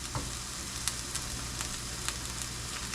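Bacon, onions, garlic and mushrooms sauté in a pan, giving a steady, close crackling sizzle broken by a few sharper pops and stirring clicks, with no talking over it.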